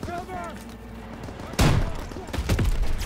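Gunfire aimed at a tank in Call of Duty WWII, a heavy blast landing midway after a quieter stretch, then more booming shots and rumble close by, with a voice shouting over the battle.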